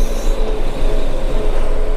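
A Tümosan 6065 tractor hauls a load of olives to the factory in the rain, its loud, steady engine and drivetrain rumble filling the cab continuously with no pauses.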